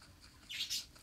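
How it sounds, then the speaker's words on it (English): Seagulls cry in the video game Ultimate Fox Simulator 2, two short bright calls close together over a faint ambient background, with no talking. "I can hear it. Seagulls and moose and goodness."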